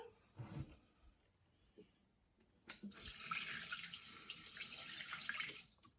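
Water streams from a tap or is poured into a container for a star anise and cinnamon syrup, a bright splashing flow starting after a few quiet seconds with small kitchen knocks, then tapering off.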